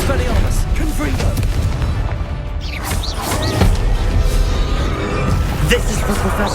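Confringo and Bombarda spell blasts in Hogwarts Legacy go off as steady booming impacts and crackling bursts through a dense, continuous battle din, with voices shouting spell names over it.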